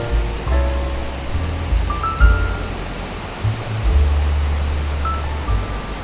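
Water crashes down the Viripara waterfall near Mamkulam, Munnar, Kerala, as a loud, steady, close-up roar with a deep rumble underneath and no break.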